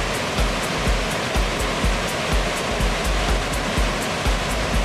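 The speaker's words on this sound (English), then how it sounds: "It's a big-ass waterfall." Alexandra Falls, a large waterfall near Whistler, roars as a loud, continuous broadband rush of falling water, steady and close with no voices over it.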